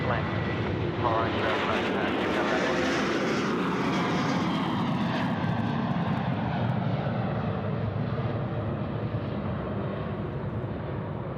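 Loud roar of a China Eastern passenger jet landing on runway 34 right at Sydney Airport, engine noise filling the whole stretch and slowly shifting in pitch as it passes, with radio chatter underneath.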